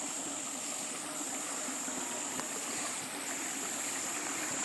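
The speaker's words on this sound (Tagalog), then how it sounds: "Lakas ng tubig." A strong stream rushes past in a steady, unbroken flow, its loud wash of moving water with no talk over it.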